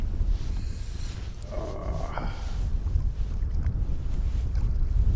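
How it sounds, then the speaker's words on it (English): Gusts of wind buffet a microphone outdoors on a lake while someone is fishing. The rumble is loud and low and builds toward the end, with a brief faint tonal sound in the middle. "wind's got me. Kind of picked up."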